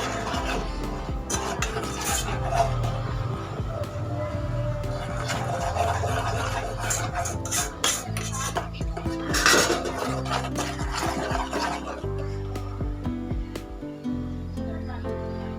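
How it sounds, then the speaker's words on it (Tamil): Cake batter with cocoa powder being mixed in a bowl, a close run of scraping, clinking and rubbing strokes of a utensil against the bowl, with music playing throughout. "கோகோ பவுடர் 1/2 கப் அதை சேர்த்துக்கலாம். சேர்த்துட்டு நல்லா மிக்ஸ் பண்ணிடலாம்."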